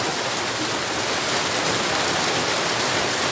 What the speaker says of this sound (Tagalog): kusog yung uwan sa mga karon